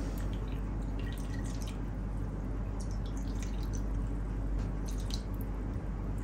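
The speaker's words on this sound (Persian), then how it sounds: "و حالا آب انار رو بهش اضافه میکنم" Pomegranate juice poured into a Gilan-style kal kabab mixture during home cooking, giving a steady, soft liquid trickle and dribble for several seconds with no talking.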